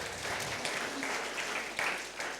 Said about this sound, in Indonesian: Berikan tepuk tangan meriah Tuhan kita.